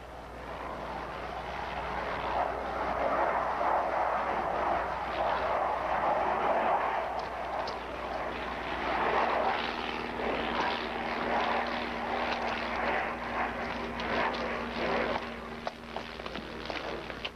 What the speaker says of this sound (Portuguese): Eu piloto avião de Joffre, se isso não incomoda